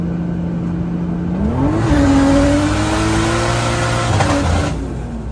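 A Nissan 240 engine revs loudly during a tire burnout, its pitch climbing and holding high under a roaring, hissing wash of spinning tires.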